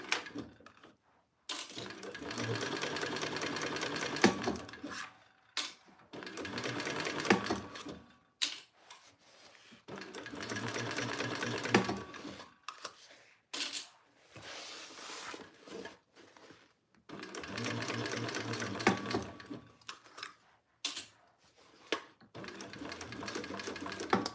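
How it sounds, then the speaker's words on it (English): A sewing machine stitches through fabric and leather in several bursts of rapid mechanical whirring, each lasting a few seconds and separated by short pauses, close and clear. "He just sews like butter through this stuff and leather."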